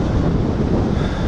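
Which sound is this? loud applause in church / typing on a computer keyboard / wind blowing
wind blowing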